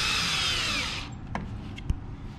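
A power drill drives a screw into a wooden picture frame during assembly. A steady high motor whine runs for about a second, then stops, followed by a few soft clicks and a sharper knock as the tool is handled.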